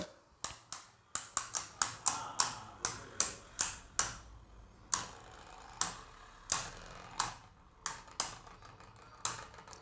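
Beyblade Burst spinning tops, Blaze Ragnarok against Alter Chronos, clash in a stadium after launch with a rapid run of sharp plastic clacks and ticks. The clacks come in quick bursts, then thin out to scattered single hits as the battle winds down.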